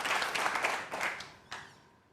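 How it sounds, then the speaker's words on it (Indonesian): Audience members at a panel discussion event give a short round of applause, a brief patter of claps that fades out with a final few scattered claps. "terima kasih tepuk tangan untuk Mas Cahyo."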